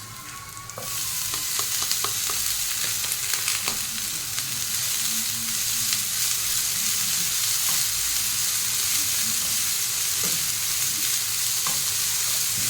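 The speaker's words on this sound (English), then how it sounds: "Greens are also almost getting burnt, so I'm going to add my veggies" Vegetables go into a pan of greens that are close to burning, and they fry with a steady, loud sizzle. Stirring clatters and scrapes now and then through the whole stretch, and nobody speaks.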